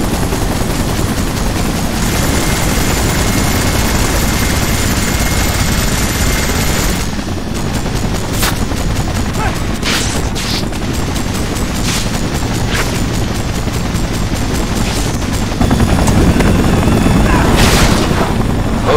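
Police helicopter rotor chop in the Spider-Man 3 video game roars continuously and loudly, mixed with bursts of minigun fire and impacts during a street chase.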